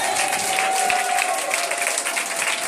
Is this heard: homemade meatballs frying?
no